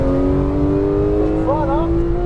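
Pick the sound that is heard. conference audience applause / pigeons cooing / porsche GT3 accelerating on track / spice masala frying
porsche GT3 accelerating on track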